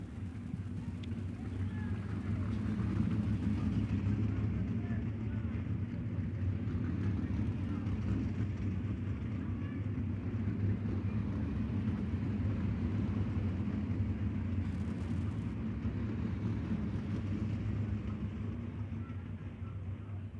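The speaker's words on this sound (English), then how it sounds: "final couple cars making their way off the racing surface" Kubota High Limit Racing cars rolling off the dirt racing surface at Central Arizona Speedway, a steady low engine rumble at moderate distance that swells slightly and then fades over twenty seconds.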